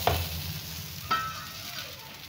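Spices crackle and sizzle steadily in hot oil for tempering sarson ka saag, with a sharp spitting burst at the start and another about a second later.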